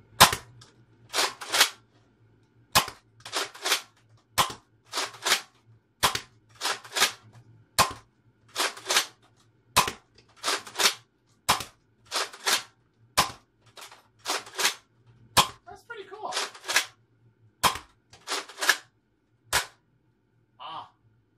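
Nerf Mega Thunderhawk blaster firing darts: a long series of sharp, dry snaps, each shot preceded by a rattling priming pull, spaced roughly every second or two at close range.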